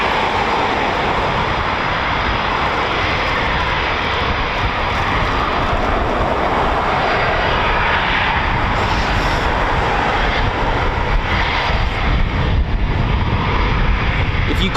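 Eurofighter Typhoon FGR4 jets at RAF Coningsby, a QRA station, make a loud, continuous engine roar that builds slightly toward the end, with a voice talking underneath.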